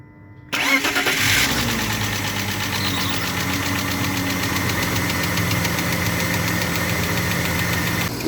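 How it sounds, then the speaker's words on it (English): Car engine cold start: a brief crank that catches about half a second in, then a rough, steady idle with a persistent ticking, knocking undertone, close and loud. "You can see how bad the engine sounds when it's actually cold start."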